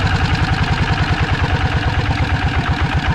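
A small single-cylinder engine runs steadily, its rapid even chugging pulses loud and close, with no talking.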